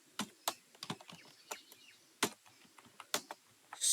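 Code typed on a computer keyboard: a quick, uneven run of crisp key clicks at close range, some keystrokes louder than others, with no talking.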